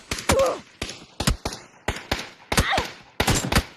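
Gunfire in a video game: a series of sharp, loud shots in irregular bursts, some close together and some spaced apart, over nearly four seconds, with no voices.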